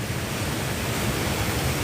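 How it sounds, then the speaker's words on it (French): A steady, broad rush of a river waterfall beside an old seigneurial mill fills the scene, constant and fairly loud with no pauses. "La rivière est juste là, là. Avec une chute."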